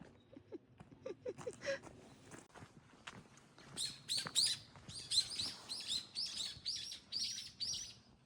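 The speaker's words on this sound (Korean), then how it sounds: "우와 새소리 나는 거 너무 좋아" Birds chirp in quick repeated bursts on Jeju, a rapid series of high tweets building toward the end, with quiet rustling and soft footsteps in a calm, faint setting.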